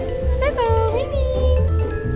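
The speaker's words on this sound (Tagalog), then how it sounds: "may nakita tayong mga pusa" Cats at a pet market meow in several short, close cries, pitched calls rising and falling over a low background hum with some faint talk.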